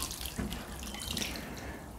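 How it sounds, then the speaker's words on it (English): Water poured onto a freshly repotted palm tree in peat-free compost, a steady close splashing trickle with no pauses or voices. "So I'm just going to water this now"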